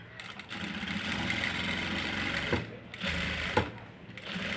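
A sewing machine stitching a waistband with piping: a steady, fast mechanical whirring with a couple of brief pauses and clicks, moderately quiet and close.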